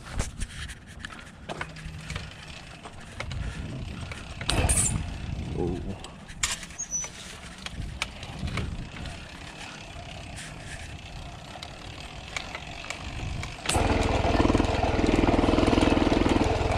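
A motorized bicycle engine fitted with an OKO PWK carburetor, running with no air filter, is cranked and catches near the end, settling into a loud, steady idle after a stretch of rough sputtering and handling noise.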